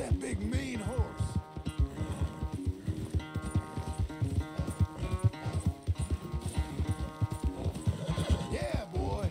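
Rapid rhythmic hoofbeats of a galloping horse in Red Dead Redemption 2 pound steadily, with whinnies breaking through near the start and end, close and fairly loud.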